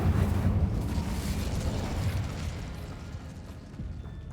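An Incendio fire spell cast in Hogwarts Legacy bursts into a loud rushing, crackling roar of flames that slowly fades over a few seconds, with no talking.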